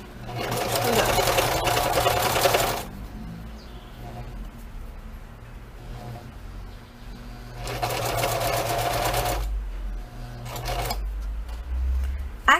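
A sewing machine stitches a cotton dish towel in two loud, steady runs of motor whir and needle clatter, separated by a quieter pause with faint handling noise.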